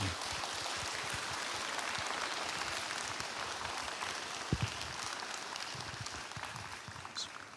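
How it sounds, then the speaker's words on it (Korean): Congregation at a Friday church prayer service applauds to welcome a speaker to the pulpit, a steady, soft wash of many hands clapping that carries evenly throughout, with a couple of louder thumps near the middle. "우리 박수로 환영해 주시면 감사하겠습니다"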